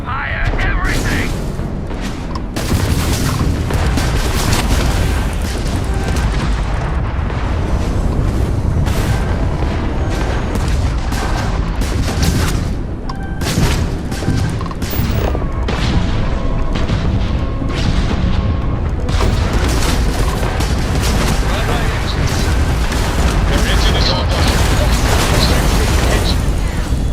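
Spaceship weapons fire and explosions in Starfield rumble and crack continuously for nearly half a minute, dense repeated booms and bursts layered with talking voices.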